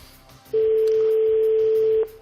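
A single telephone ringing tone sounds as a call connects, a loud steady electronic beep lasting about one and a half seconds, with quiet background before and after it.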